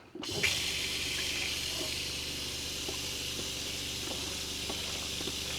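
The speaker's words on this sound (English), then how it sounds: "And then what we're going to do is run some water in it." Tap water gushes steadily into an RV sink with a constant splashing hiss, close and fairly loud, starting abruptly after a brief click.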